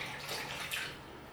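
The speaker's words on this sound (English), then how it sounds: "we're going to take a little bit of stock and pour it in the bottom of the pan" About two cups of stock is poured into the bottom of a roasting pan holding a maple bourbon glazed turkey, giving a brief, soft splashing trickle up close with no talking.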